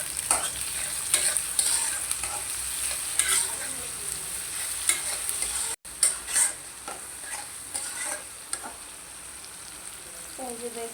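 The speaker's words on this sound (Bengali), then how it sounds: "এখন পেঁয়াজ আর মরিচটা ভালো করে ভেজে নেব।" Onion and chili fry with salt in a pan, a steady sizzle broken by repeated scraping strokes of a stirring spoon, close and clear, with one brief cut partway through.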